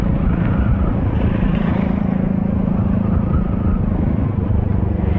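Steady, loud motorcycle engine drone with a rough exhaust rumble on an expressway in Laguna, Philippines, holding at the same level throughout, thick low-end noise and no breaks.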